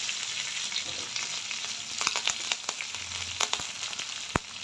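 Curry leaves fry in hot oil for an okra stir-fry, giving a steady close sizzle. Scattered crackles and pops rise above it, with no voices.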